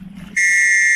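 A single short electronic horn blast for a sailing race start, a loud steady tone beginning abruptly after a brief low murmur and holding to the end.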